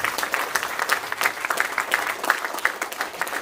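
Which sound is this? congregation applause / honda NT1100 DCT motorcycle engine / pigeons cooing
congregation applause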